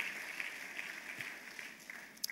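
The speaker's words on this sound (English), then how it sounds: "Round of applause for him, please." Audience applause at a Christian men's conference, faint and distant, a steady wash of clapping for about two seconds with one sharper clap near the end.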